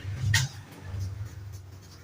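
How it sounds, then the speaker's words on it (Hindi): Handwriting on a surface, a short scratchy stroke followed by quieter scraping marks, close and faint over a low background hum. "यहां पे मैं लिखता चलो"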